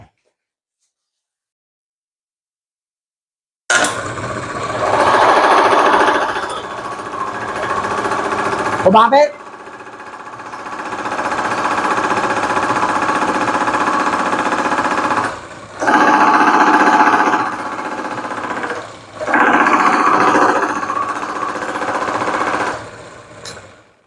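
A small engine run with water mixed into its oil clatters loudly and steadily, with a fast rattling knock that surges and eases over several stretches, a person talking over it.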